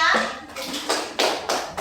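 Children clap in a primary classroom: a few loose bursts of handclaps spaced about a third of a second apart, near and fairly loud, following a voice at the start.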